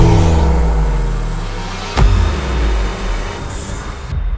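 A Volkswagen Golf R launching hard with launch control, its engine note climbing loudly and closely, a sharp break at the gear change, then pulling again with a steady roar.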